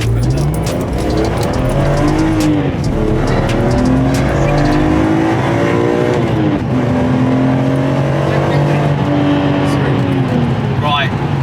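A BMW E46 M3 with an SMG gearbox and CSL flash accelerates hard from 0 to 60, its engine note rising and dropping through gear changes, loud and close for about eleven seconds.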